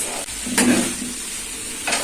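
Afghani-style chicken pieces fry in a pan, producing a close, steady sizzle with a couple of brief stirring scrapes and rustles; no speech.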